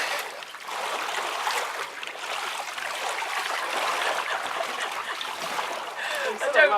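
Water splashes and churns at the Franz Josef Glacier hot pools in New Zealand, a continuous close wash of sloshing and spatter with people talking over it.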